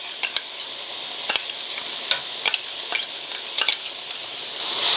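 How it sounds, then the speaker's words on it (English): Chow mein noodles with hoisin sauce are stirred in a hot pan, a soft steady sizzle broken by sharp scraping clicks of a utensil against the metal, several in irregular succession. "Give it a stir."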